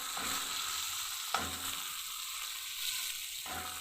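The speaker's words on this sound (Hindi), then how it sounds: "अब मैं इसको लहसुन अदरक के पेस्ट में थोड़ा सा लाल करूँगी।" Liver sizzles and fries in garlic ginger paste in a pan, a constant close hiss broken by a few sharp stirring scrapes, with no talk.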